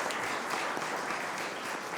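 Conference audience applauding at an opening lecture, a steady wash of clapping from a large hall, moderately distant and even in level for the whole stretch.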